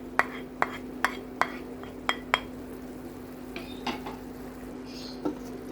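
A utensil stirs green beans and tomatoes in a pan, giving a series of sharp, evenly spaced clinks against the pan followed by softer scraping, over a low steady hum, with no talking.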